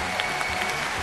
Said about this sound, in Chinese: 掌声祝福他们，祝你们幸福。